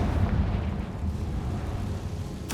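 Confringo fire spell blast in the Hogwarts Legacy video game: a loud, sustained rumbling explosion that fills the clip and stays steady, then ends with a sharp burst at the very end.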